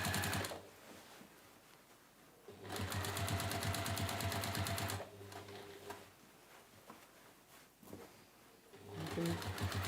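A sewing machine stitches fabric for a three-pocket tote bag, running in steady bursts of rapid mechanical clatter close up, starting and stopping with quiet pauses between runs.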